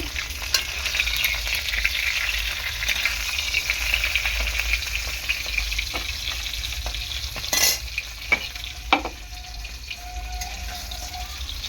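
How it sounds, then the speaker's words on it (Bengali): A fish head fries in hot oil with a steady, close sizzle and crackle that runs the whole time, broken by a few sharp clatters of a utensil against the pan near the end. "মাছের মাথাটা ভালো করে ভেজে নিয়েছি, এবার আমি তুলে নেব।"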